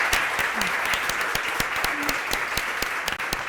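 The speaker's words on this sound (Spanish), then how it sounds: "También un fuertísimo aplauso para ella" Sustained audience applause at a live book presentation event, a steady dense wash of many hands clapping at an even level throughout, with individual sharp claps standing out near the listener.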